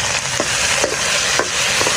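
Fish head hits hot oil in a wok, a loud, dense, continuous sizzle filling the whole clip, with faint periodic scraping strokes of stirring and no voices.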